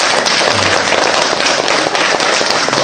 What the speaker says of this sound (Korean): 박수, 큰 박수.